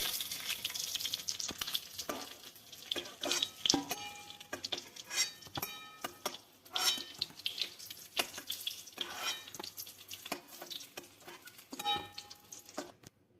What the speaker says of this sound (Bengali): পটলটা ভাজা হয়েছে, আর একটু ভেজে নিব, আর একটু লাল হলে তুলে নিব পটলটাকে